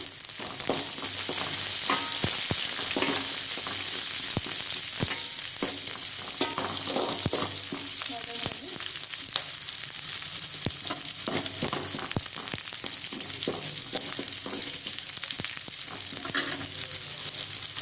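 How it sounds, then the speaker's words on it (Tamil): Onions and curry leaves sauté in oil after mustard seeds splutter, a continuous bright, crackling sizzle filling the space, punctuated by frequent spoon scrapes and taps against the pan. "வெங்காயம் கொஞ்சம் வதங்கட்டும்"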